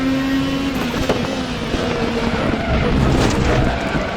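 An Indycar at speed on Spa in the RaceRoom racing game, engine droning loudly throughout as the rear wheels lock under braking, with a brief skid and tyre scrub over the steady engine roar.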